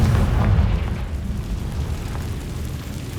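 A Confringo spell explodes in the game Hogwarts Legacy, a deep, low booming burst that rumbles and fades over a few seconds.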